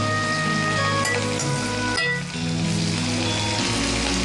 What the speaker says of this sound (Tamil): எவ்வளோ நேரம் வதங்கணும் இந்த குடை மிளகாய்? ஒரு 5 நிமிஷம் வதங்கணும்.